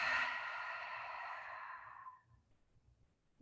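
A cleansing exhale released through open lips during a yin yoga session, one long soft breathy rush fading out over about two seconds, followed by near silence.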